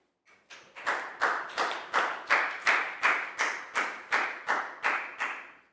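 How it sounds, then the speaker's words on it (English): A primary-school class gives a round of applause for a pupil during a Year 4 maths lesson, a dozen or so loose, rhythmic bursts of clapping in a classroom. "Big round of applause for Prow,"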